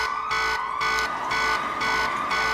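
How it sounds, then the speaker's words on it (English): A loud electronic alarm blares in a repeating pulsing pattern, its wailing tone cycling roughly every half second, close and harsh with no voices. "His words are diminished by a blaring alarm sound of an alarm."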